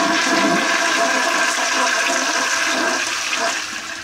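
A toilet with a freshener stone in the bowl flushes in one loud, continuous rush of water that tapers slightly at the end, close by and with no one speaking.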